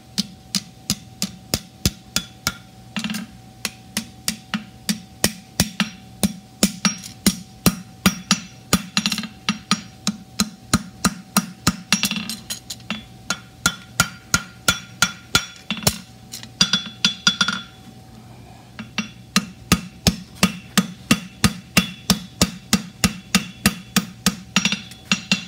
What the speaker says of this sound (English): I got plenty of material to forge out nice and clean